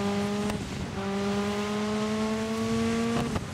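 A rally car engine in the Dirt 5 racing game holds a steady, buzzing drone at moderate level, briefly dipping before settling back into a sustained rev, with no talking.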